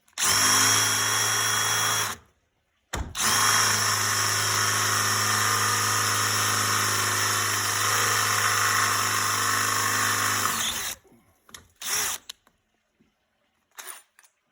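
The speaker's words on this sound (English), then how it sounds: "drill through the first layer of aluminum" A power drill boring through aluminum whines steadily for several seconds, stops briefly, then runs long again before a few short bursts and clicks at the end.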